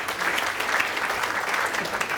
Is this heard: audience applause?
yes